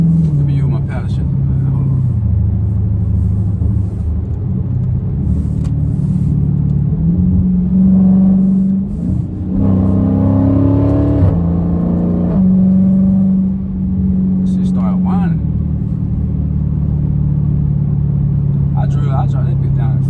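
A 500+ horsepower Dodge Scat Pack engine idles with a deep rumble, then revs up sharply through rising tones before settling back. Someone talks over the engine at times.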